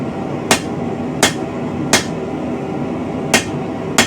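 Steel rebar is struck while cut to length for a medieval bodkin arrowhead: five sharp metallic hits ring out at uneven intervals over a low steady background hum.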